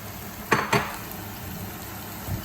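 Onion, squash and eggplant being sautéed together for a vegetable dish with coconut milk: a soft background sizzle with two quick clattering stirs of a utensil against the pan early on, then quieter frying.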